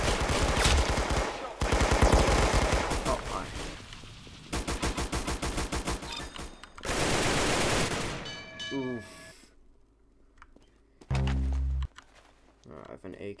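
AK rifle gunfire in Roblox Arsenal, heard as several loud rapid bursts of automatic fire separated by short gaps, followed by quieter game effects and a brief low thump near the end, with a voice speaking at times.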